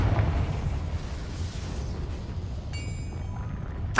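A Confringo spell explodes in a video game as a low rolling boom that fades into rumbling ambience, followed by a brief chime and a sharp burst at the end.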